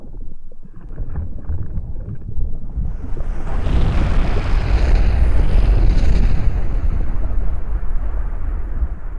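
Vinegar and baking soda snow volcano erupting, a sudden fizzing rush that starts after a quiet moment and holds as a loud, steady hiss and bubble for several seconds.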